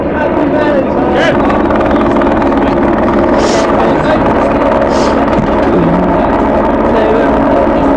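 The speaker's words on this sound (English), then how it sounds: "just got that police helicopter going round and round and round" A police helicopter circles overhead at an open-cast mine protest in Wales, its rotor drone loud and continuous, with outdoor voices talking beneath it.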